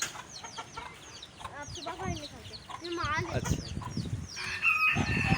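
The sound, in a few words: rooster clucking and crowing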